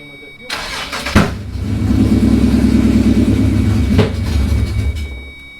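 Swapped Nissan VQ37 V6 in a 350Z cranking and catching, a brief starter whirr then a loud steady idle that cuts off near the end, with people talking nearby.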